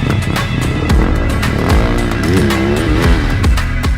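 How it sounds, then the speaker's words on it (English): A 2025 Beta 450 RX motocross bike engine revs hard and close, its loud four-stroke roar rising and falling through quick throttle blips and shifts. "Today we're riding the 2025 Beta 450 RX motocross bike."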